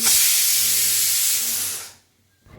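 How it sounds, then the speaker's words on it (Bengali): A pressure cooker on a kitchen stove lets out a loud, sustained steam hiss that runs for about two seconds, then cuts off abruptly into near silence before a faint rise. "এইদিকে প্রেশার কুকারে বসিয়ে দিয়েছি বেশ অনেক কয়টা সিটি লাগবে"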